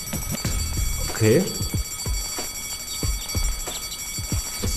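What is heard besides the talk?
alarm signal in the video game Deponia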